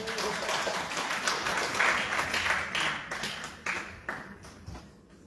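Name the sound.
audience applause for the chairman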